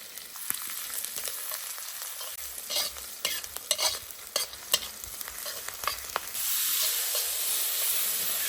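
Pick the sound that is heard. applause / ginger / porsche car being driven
ginger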